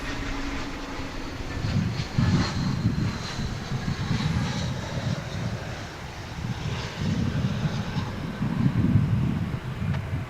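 An American Airlines jet, built in 1996, departs DFW International Airport, its engines a steady low rumble that swells and fades in waves, moderately distant, with no voices.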